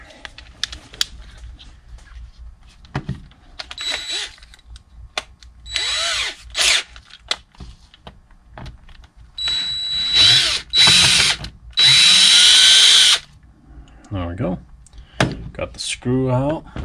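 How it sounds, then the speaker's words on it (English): A power drill unscrews screws during a repair of a high-heel shoe, producing several loud whirring bursts of a second or two with pauses between, plus handling clicks and someone talking in the gaps. "All right, so grab my drill."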